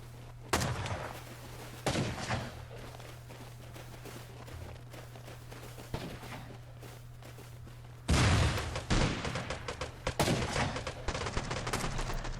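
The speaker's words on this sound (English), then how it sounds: "Just constant exchange of gunfire between the defenders and the raiders, as it should be in a raid." Constant exchange of gunfire in a Rust video game raid between defenders and raiders: sharp shots and bursts at irregular intervals, with a louder, denser volley of fire in the second half.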